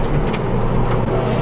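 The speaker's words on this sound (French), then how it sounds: "on va se faire doubler par la voiture de course." A race car overtakes on the Lohéac circuit, a short loud burst of engine and road roar sweeping past close by.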